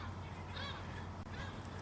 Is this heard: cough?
no